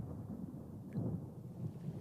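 Rain begins to pour during a storm, a steady low rumble of thunder and rainfall rolling continuously, with one brief swell near the middle and no voices.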